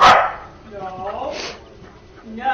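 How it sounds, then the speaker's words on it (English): A dog barks during a police traffic stop, giving a few sharp barks and yips close by, with a person talking over and between them. "Don't bark."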